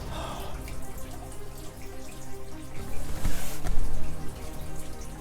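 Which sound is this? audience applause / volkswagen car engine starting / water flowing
water flowing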